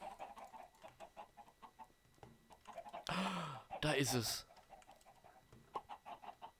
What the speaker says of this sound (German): ich fange mal eben die Hühner ein